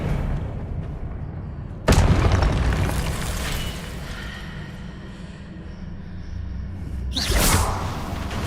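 Spell-casting blasts in Hogwarts Legacy: two loud sudden whooshing explosions a few seconds apart, each trailing off into rumbling debris and crackle, with fainter magical effects between them and no speech.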